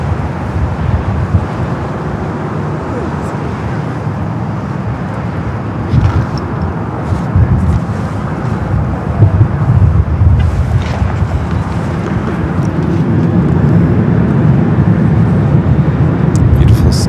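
An airliner taking off from runway 24 left at LAX, its engines a broad rumbling roar that builds toward the end, heard under wind buffeting the microphone and with a voice talking over it.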